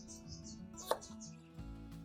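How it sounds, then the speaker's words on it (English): A knife chops through potatoes on a board in a few quick, crisp cuts, quartering them outdoors by a wood fire, with faint background tones and no talking. "I'm going to give our potatoes a chopping. So here we're going to quarter them."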